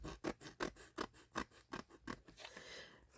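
Tim Holtz scissors make a steady series of about ten crisp snips trimming the edge of a paper file folder, close and quiet, with no one talking.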